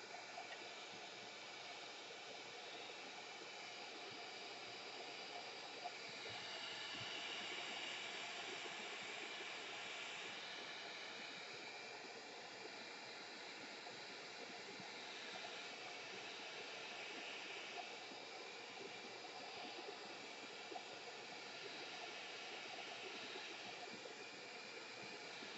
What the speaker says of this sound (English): So use my heat gun.